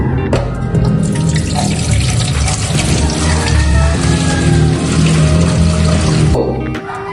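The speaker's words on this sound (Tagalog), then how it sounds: "kumuha kayo ng kaserola at lagyan ng tubig" Tap water runs hard into a metal cooking pot, a loud, steady gushing splash up close that carries on for several seconds before the flow stops abruptly near the end.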